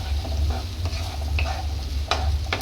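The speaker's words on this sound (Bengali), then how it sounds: "সসটা দিয়ে আমি 2 মিনিটের মধ্যে নাড়াচাড়া দিয়ে নেবো।" Egg tadka masala stirred in a pan just after sauce goes in, a close, continuous scraping and sizzling with a few sharper utensil scrapes against the pan.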